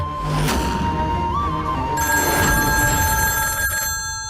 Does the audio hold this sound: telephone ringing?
yes